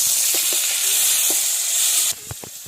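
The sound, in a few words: tomatoes frying with chilli, ginger, garlic in pan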